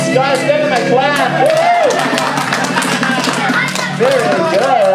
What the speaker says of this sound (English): Guys, give them a clap.